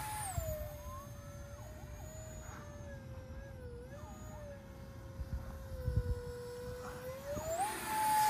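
A Triggen triple delta RC plane on its maiden flight, its electric motor whining steadily overhead and rising and falling in pitch as it maneuvers, with wind rumble underneath.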